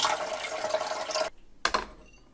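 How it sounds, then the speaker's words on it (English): Tap water pours steadily into the reservoir of a Keurig K Duo coffee maker for about a second, cuts off, then a brief second splash follows and trails away. "I'll fill the reservoir to the max line."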